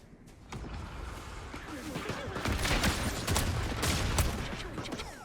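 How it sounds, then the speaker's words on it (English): Rapid bursts from the pew pew gun in Fortnite, a crackling stream of fairly quiet shots that builds and continues steadily for several seconds with no pause. "Let's get some eliminations with the pew pew gun."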